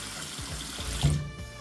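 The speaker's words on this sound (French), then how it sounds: "on ouvre un peu le robinet" Tap water runs steadily into a sink during cleaning, a continuous broadband rush with a slight swell near the middle, heard alone and fairly close.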